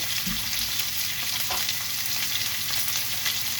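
Lamb fat, oils and juices left from lamb chops sizzling in a pan, a steady close crackling fry with faint scrapes, constant and fairly quiet, no talk.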